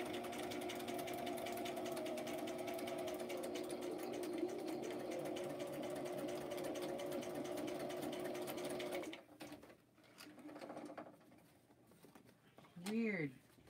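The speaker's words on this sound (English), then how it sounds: "Sewing machine skipping stitches" A sewing machine that is skipping stitches runs steadily for about nine seconds with a fast mechanical whir, then stops, leaving faint clicks and a brief squeak.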